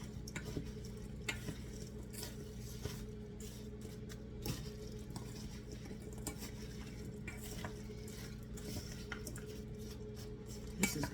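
A spoon stirs apples, pears, butter and sugar sautéing in a pan for baked acorn squash, with steady soft sizzling and scattered scraping clicks of the utensil against the pan, no talking.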